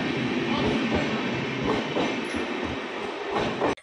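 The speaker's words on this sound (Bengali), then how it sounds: "আমাদের ট্রেন চলতে শুরু করে দিয়েছে" A passenger train pulling in and starting to move on a family journey to Ayodhya, a steady loud rumble with rail clatter filling the whole clip, no speech.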